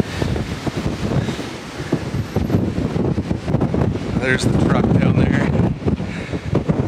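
Strong wind gusts roar into the microphone on top of a castle in Kansas, a loud continuous buffeting with a person talking briefly over it.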